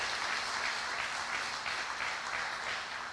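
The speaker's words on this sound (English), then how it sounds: "we'll give them a big round of applause" Audience applause at a talk event in Seoul, a steady dense wash of many hands clapping for about three seconds, even and moderately loud throughout, with no voices over it.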